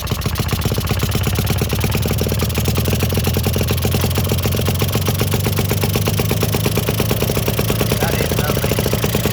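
A Villiers Marvil two-stroke engine idles after a warm restart with no choke, a steady, loud, continuous mechanical chug with rapid regular firing pulses throughout.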